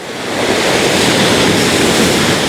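A big ocean wave breaks on a windswept coast, swelling into a loud, sustained roar of crashing surf with no voices.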